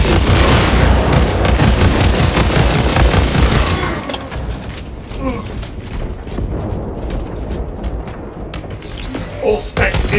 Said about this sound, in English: Crap grenade out!